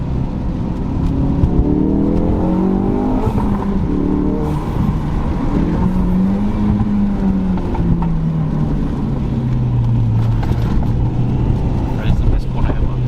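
Ford RS car engine accelerating on a mountain touge road, a steady close engine drone heard from inside the car with gradual pitch sweeps as it pulls through gears, under continuous talking.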